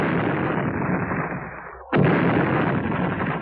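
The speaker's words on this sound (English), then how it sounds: "Use Tim's rocket launcher to finish off that gunboat." A rocket launcher round slams into a gunboat's fuel tank in an audio drama, a loud explosion bursting in mid-clip after a dense roaring battle rumble, then sustained heavy blast noise.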